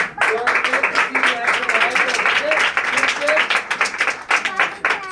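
A congregation claps along at a Hindi/Punjabi-language prayer service, rhythmic clapping under a preacher's amplified voice and group chatter, steady and moderately loud.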